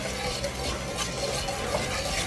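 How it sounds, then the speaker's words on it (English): Heavy cream is whisked into a sauce in a pan on the stove, producing a continuous soft, even stirring and light sizzling texture, close and moderately quiet, with no talking. "And just whisk that in and it'll thin it out a little bit"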